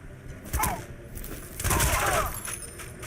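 Gunfire in Crysis 2, two loud bursts of shots about a second apart over a steady game backdrop, with a voice speaking.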